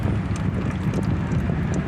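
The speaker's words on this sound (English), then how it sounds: "that wind's blowing" Steady outdoor wind roars across the microphone in a continuous broadband rush beside a flood-submerged car being drained, loud and unbroken throughout.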